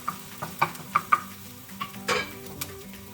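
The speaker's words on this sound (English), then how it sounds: "So just stir your onions around until they become translucent." Onions sizzle at medium heat in a pan as they are stirred, soft frying hiss broken by several sharp utensil taps and scrapes against the pan, close up with no voices.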